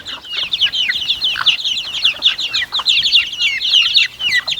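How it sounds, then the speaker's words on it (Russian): A flock of eight roosters and two hens clucking and calling in dense, overlapping bursts, loud and close with no pauses, no voices over it. "Да, 8 петухов и 2 курицы."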